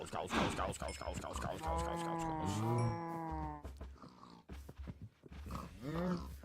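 Cows mooing in a survival-style video game, with several long harmonic moos overlapping between about 1.5 and 3.5 seconds and another near the end, over a busy background of game sounds and a voice.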